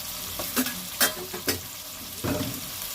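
Turmeric, chilli powder, cumin and coriander frying in a pan, with a low crackling sizzle and several distinct scraping stirs at irregular intervals, close and moderately loud, with no voices.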